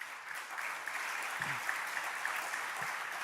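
An audience at an anti-war event applauds, a steady, fairly soft hiss of many hands clapping together that holds evenly throughout, with a brief low thump partway through.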